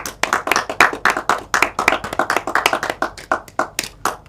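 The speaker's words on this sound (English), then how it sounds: "The deafening applause rippling across the internet there." Scattered clapping from a small group of hands, sparse and uneven, with distinct individual claps in a loose rhythm, close and fairly loud, celebrating an online premiere of Straight 8 nature-edition short films.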